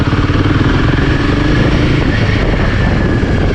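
A Royal Enfield Himalayan 450 motorcycle engine drones loud and steady while being ridden, a close, continuous throaty rumble mixed with wind and road noise.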